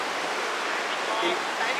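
A mountain stream near Manali rushes past a high rock at nightfall, giving off a loud, continuous, even roar of flowing water without breaks.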